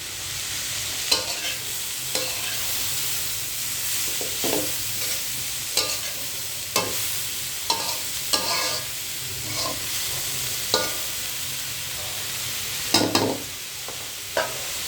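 Vegetable bhaji frying in a pan gives a steady close sizzle and hiss, broken every second or two by scraping clicks of a spatula stirring it, with no one talking.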